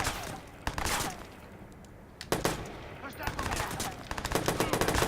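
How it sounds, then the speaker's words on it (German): Gunfire in the video game Watch Dogs: loud, dense bursts of automatic shots with sharp impacts, breaking off into a lull and then resuming in rapid rattling volleys, with a faint voice underneath. "Damit wir schießen."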